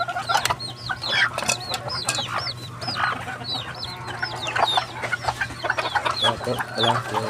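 Bantam chickens cluck busily close by in a backyard, with several overlapping calls and short chirps repeating throughout over a steady low hum.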